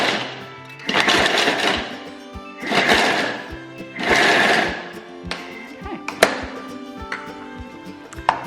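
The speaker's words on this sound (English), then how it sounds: "in the Thermomix, we're just going to turbo a couple of times" A Thermomix on turbo chopping muesli ingredients in three loud, roughly one-second whirring bursts with rattling pieces, then lighter clacks and taps as the bowl settles.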